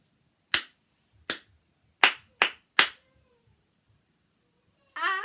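Five sharp hand claps from a reception class clapping game ring out in an uneven pattern, two spaced apart and then three quicker ones, followed by a brief burst of voice at the end.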